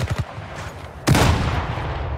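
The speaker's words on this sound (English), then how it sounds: "There we go with the grenade again." A Battlefield 4 video game grenade explosion: a sudden heavy blast bursts out after a few faint thumps, followed by a rumbling decay of noise and debris.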